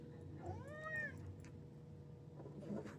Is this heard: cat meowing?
yes